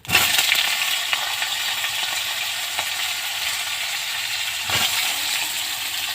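Cauliflower florets hit hot oil seasoned with bay leaves and whole cumin, breaking into a loud, steady sizzle that continues throughout, with a few faint clinks and stirring sounds in the pan.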